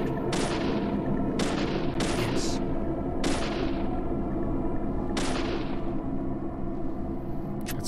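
Several loud, sharp gunshots from the game Deadly Premonition ring out at uneven intervals, each with a quick decaying tail, over a steady background drone of game ambience.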